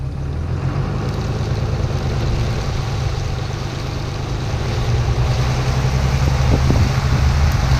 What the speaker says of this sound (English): And here's an exhaust clip quickly.